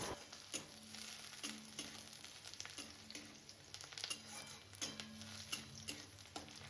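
Onions and cashews frying in a pan over a medium flame, a soft, steady sizzle with faint stirring taps and scrapes recurring every second or so.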